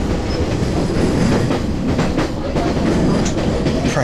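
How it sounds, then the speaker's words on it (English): A monorail train passes close by in Japan, a loud continuous rumble with rhythmic clattering of the cars running through the whole stretch. "Monorail."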